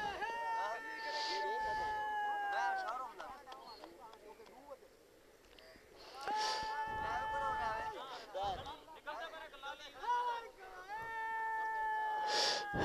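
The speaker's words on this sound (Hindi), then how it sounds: "कबूतर को अपनी हाँक से, आवाज़ से जो है ना, कबूतर को बुला रहे हैं" Several men give long, drawn-out wavering calls in bursts to summon pigeons, loud and near, with pauses between, and outdoor noise behind them.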